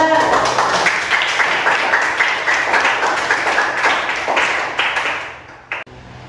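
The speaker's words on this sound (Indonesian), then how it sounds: "Silakan tepuk tangan untuk kelompok 2." Classroom audience clapping for a student presentation group, a steady dense patter of many hands lasting several seconds, then trailing off with a couple of louder isolated claps at the end.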